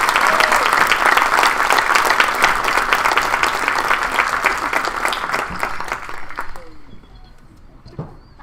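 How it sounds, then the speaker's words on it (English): Dense, sustained applause from a crowd at a high school graduation ceremony fills the air loudly, then thins and fades out toward the end. "Let's give them another round of applause."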